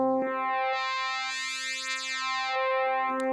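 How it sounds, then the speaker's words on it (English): Sustained synthesized tone from music software runs through a band pass filter that cuts highs and lows for a boxy, AM-radio quality, its harmonics sweeping steadily for about three seconds before a click at the end. "Or you'll find a band pass filter, and that's really a high pass and a low pass together"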